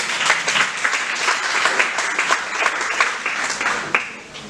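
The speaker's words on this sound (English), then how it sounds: "Everyone with a big round of applause." An audience at a Human Rights Day event applauds the chief guest, with dense, loud clapping that holds steady for several seconds before easing slightly near the end.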